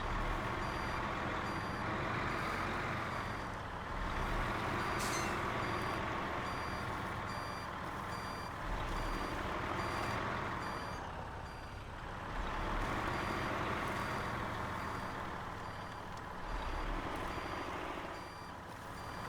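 A truck backs up towing a long, heavy trailer at an ore sorting center, its reversing alarm beeping in a steady repeated pattern over a loud diesel engine that swells and eases in cycles.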